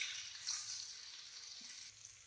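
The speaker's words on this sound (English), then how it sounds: "stir frying this" Soft, steady sizzling of food frying in a pan, a constant hiss with faint stirring, quiet and close, no voices.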